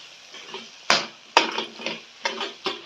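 A spoon works red chili powder, chaat masala and kasuri methi around a pan for potato bhaji, giving several sharp close knocks and scrapes against the pan over a quiet background sizzle.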